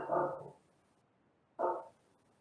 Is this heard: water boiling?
no